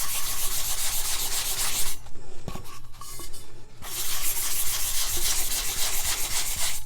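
Sandpaper rubbing across a tumbler in a steady scratchy rhythm, close and fairly loud, with a short pause near the middle before the sanding resumes.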